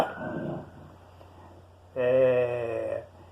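A small female dog whines and yips close by indoors, a drawn-out whimper followed by a louder high-pitched bark-like cry after a brief pause, with no speech over it.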